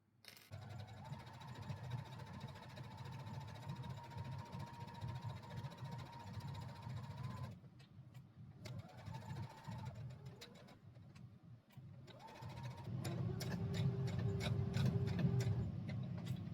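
A sewing machine back stitches with a soft whirring motor and rapid needle clatter that pauses briefly a few times, then resumes louder toward the end, heard faintly at moderate distance.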